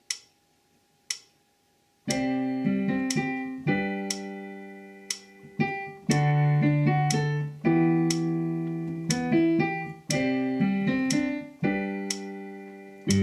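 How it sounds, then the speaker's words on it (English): Piano keyboard plays a song with both hands at 60 beats per minute, after two metronome-like clicks, steady low chords sustained beneath a clear right-hand melody in even, moderate phrases. "At 60 beats per minute, it sounds like this."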